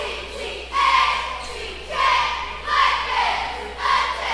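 Loud basketball crowd at a girls' high school game between Herculaneum and St. Vincent, with cheerleaders chanting in repeated rising bursts of yelling about once a second.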